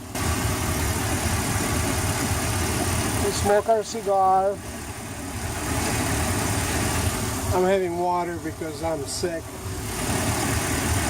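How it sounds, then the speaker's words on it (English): A boat engine idles steadily with a low, even drone, running throughout while someone talks over it nearby. "Engine been running for a few minutes now"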